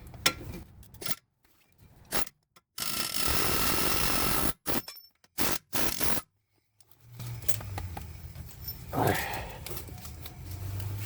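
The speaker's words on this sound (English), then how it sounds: "this time I'm going to use an air hammer" An air hammer works on a front strut assembly of a 2013 Chevy Impala, loud rapid pneumatic hammering in bursts broken by short silences, followed by metallic clanks and handling noise.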